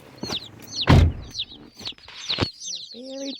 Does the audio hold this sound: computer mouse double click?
no